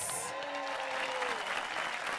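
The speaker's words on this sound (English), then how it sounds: "Can we just give them a massive round of applause?" Live audience in London applauding panelists at a talk show about Congolese families; dense, steady clapping fills the whole stretch, with a faint voice rising briefly above it.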